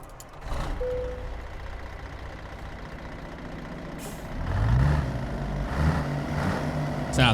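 From inside a cab in a video game, a truck's CAT 3406E engine turns over and settles into a low idle, with revs swelling midway and a brief hiss of air.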